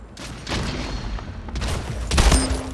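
Gunfire in the video game Splitgate: a few bursts of shots and booming impacts, fairly loud and close, spread over a couple of seconds with no talk.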